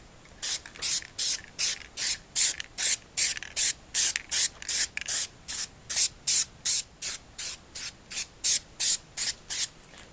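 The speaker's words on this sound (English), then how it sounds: "Now it's spraying color, let's go back. You can just spray over it." A spray paint can mists green paint onto an airsoft gun in about two dozen short, even hissing bursts, close and clear with no talking.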